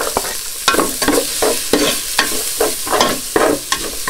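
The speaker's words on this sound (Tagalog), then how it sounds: "So magigisa na tayo ngayon." Garlic sautés in a pan for Batangas lomi, with steady close sizzling and regular scraping strokes of a spatula recurring roughly every half second.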